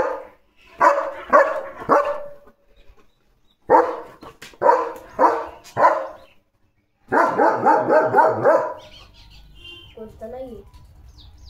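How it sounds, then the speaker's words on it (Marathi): A German shepherd barks close and loud in several rapid bursts separated by short pauses, with a final longer run of barks before it fades to quiet background with faint chirps. "पक्षी जरी असले ना तरी ते भुंकतो पक्ष्यांना पण."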